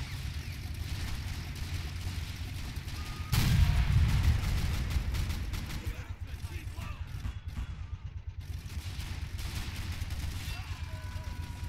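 Gunfire and battle noise in Men of War Assault Squad 2, a heavy boom followed by dense crackling shots and mechanical clatter, with a person talking over the fighting.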